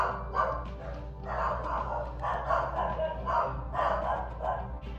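Several dogs barking indoors in bursts, loud and close, with a steady low hum underneath and no talking.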